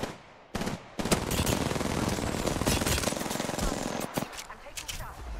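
Rapid automatic gunfire rattles in the Apex Legends shooter game, loud dense bursts that start abruptly, run almost continuously for several seconds, then break into shorter stuttering volleys.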